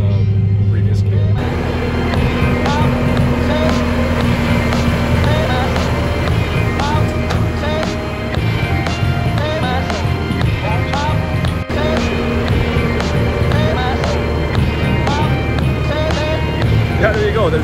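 A Kubota M7 tractor drives steadily at a dealer conference, its engine a continuous loud drone with repeated clicking and rattling throughout, and a brief dip near the start.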